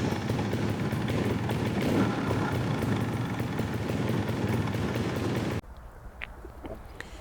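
A TRRS One RR 2026 fuel-injected trials motorcycle runs during a test ride, its engine a steady, fairly faint buzz with wind rush for most of the stretch. The engine then cuts to a quiet idle, and a few birds chirp nearby.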